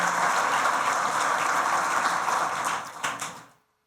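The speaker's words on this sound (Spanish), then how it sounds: "Dale fuertes aplausos al Señor" A church congregation claps loudly and steadily for several seconds, a dense wash of many hands with no voices on top. A few last scattered claps follow before it cuts off into silence.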